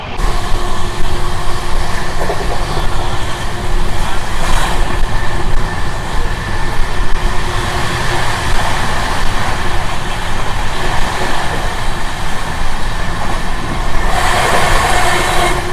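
The Sapthagiri Express, running in LHB coaches between Chennai Central and Tirupati, gives a loud, steady rolling rumble with rattling wheels and a constant roar heard from inside the coach.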